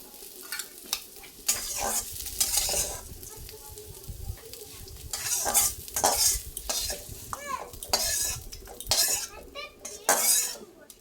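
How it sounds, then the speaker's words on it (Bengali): Fried bitter gourd is scraped and lifted out of a hot pan into a bowl, bringing repeated metal spatula scrapes and clinks over a steady oil sizzle, with a brief voice now and then. "এবারে একটা বাটির মধ্যে এই ভেজে নেওয়া উচ্ছেগুলো তুলে নেব।"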